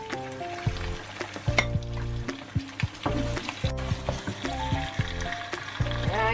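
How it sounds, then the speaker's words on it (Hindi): Goat kidneys fry with onions in a pan, a steady sizzle with repeated scraping and clinking of a spoon as the pieces are stirred, with a tonal hum running underneath. "ये देखें इनको हमने प्याजों में डाला है, अब इनको हम भून लेंगे अच्छी तरह थोड़ा"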